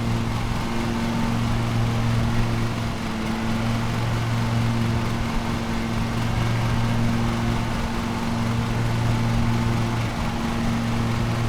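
Lawn mower engine in the Lawn Mowing Simulator video game, a steady, unbroken drone with a low hum that holds at an even level throughout, close and alone with no voices.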